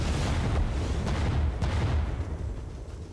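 Artillery and grenade explosions from the Vietnam-era shooter game Rising Storm 2 rumble almost without a break. Several dull booms blend into a loud, dense wash of low-end blasts that fades slightly toward the end.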